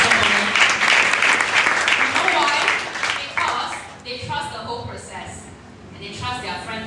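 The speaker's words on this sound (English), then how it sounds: "give a round of applause to both of you." An audience at a wellness session claps in a dense burst of applause that gradually thins and fades, with talking overlapping toward the end.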